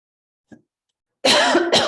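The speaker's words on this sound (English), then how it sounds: "Sorry, I just cough a little, tickle in my throat." A faint throat sound is followed by a loud, close cough in two harsh bursts.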